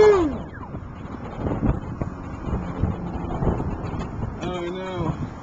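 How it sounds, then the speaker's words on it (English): Outdoors, wind buffets the microphone in a steady, loud rumble close up, and a voice speaks over it. "Oh no, wind!"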